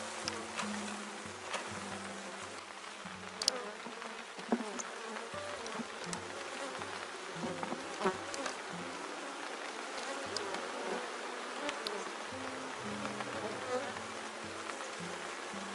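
A honeybee swarm buzzes at a hive after a colony split, a steady close hum with individual bees droning past now and then, and no talking.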